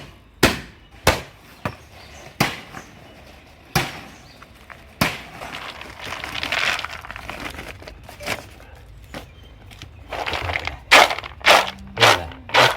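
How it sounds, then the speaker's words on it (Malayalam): Dried turmeric roots being beaten by hand to strip the skin, sharp repeated knocks in an irregular rhythm, then a stretch of rustling and scraping before a fast cluster of hard thumps near the end. "ഇതേമാതിരി അടിച്ചടിച്ച് അതിൻ്റെ മേലത്തെ തൊലിയൊക്കെ പോയി മഞ്ഞ കളറാക്കണം"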